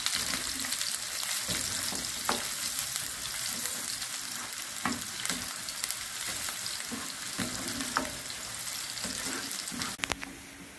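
Finely chopped onion fries in oil until brown for a Bohra-style haleem tempering, a steady close sizzle and crackle running throughout with occasional spoon scrapes against the pan.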